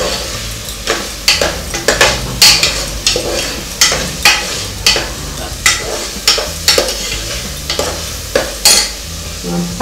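Curry leaves and coriander frying with chilli, onion and mint for tomato rice, stirred with loud, regular scraping strokes over a constant sizzle, close up.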